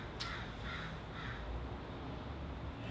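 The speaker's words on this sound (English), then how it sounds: "Nothing like being woken up by the lovely, beautiful crow." A single crow caws repeatedly outdoors in the early morning, its harsh calls fairly clear over a steady background hum, with no one talking.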